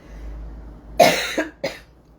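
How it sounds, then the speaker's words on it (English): A single sharp cough followed by two smaller coughs, close and fairly loud, with quiet hum around them. "I've got a very terrible cough and cold"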